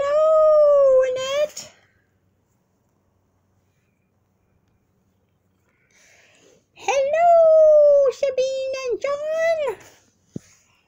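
A close cat meows loudly in one long drawn-out call, then after a few seconds of silence lets out a longer run of wavering, broken meows.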